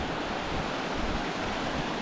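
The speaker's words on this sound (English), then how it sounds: "It's all about the base of the waterfall." A waterfall on a mountain creek in the San Bernardino Mountains gives a steady, dense rush of falling water that stays even and unbroken throughout, with no voices.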